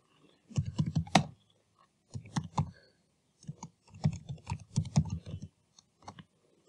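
Short bursts of clicking keystrokes on a computer keyboard entering a command on a Windows Server 2008 machine, close and fairly crisp, separated by brief pauses.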